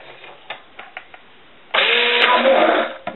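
Stick blender whirring in light, runny liquid soap, a steady motor buzz lasting just over a second, preceded by a few soft taps and clicks.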